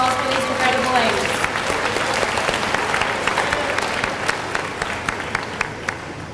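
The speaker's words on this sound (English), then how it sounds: "One more round of applause for these incredible ladies." Guests at an athletic banquet applaud the cheerleading squad, a full and sustained round of clapping from a large crowd, steady throughout with sharper individual claps near the close and a voice briefly at the start.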